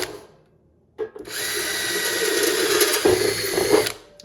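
A power drill bores a hole through metal, starting after a brief knock and a second of quiet, then a loud steady whir with grinding as the bit cuts, alone without talk.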